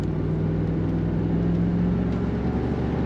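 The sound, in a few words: 1991 Chevrolet Camaro Z28 V8 engine rumble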